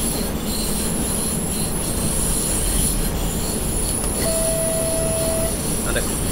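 A BR 442 electric multiple unit running on the Mittenwaldbahn in Train Simulator 2018, with steady rolling rumble, rail noise and a brief wheel squeal, all under continuous talking.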